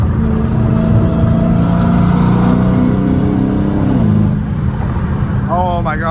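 A straight-piped Dodge Challenger Hellcat Redeye pulls hard on a highway with a loud, steady engine roar whose pitch climbs, then shifts as the revs change. Heard from inside the car, with a voice briefly at the end.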